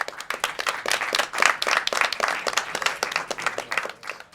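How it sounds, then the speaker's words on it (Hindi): Audience applause welcoming a professor onto the stage at a student play: dense, steady clapping from a crowd, filling the whole stretch at an even level with no talking over it. "ताली के साथ सर का स्वागत करें"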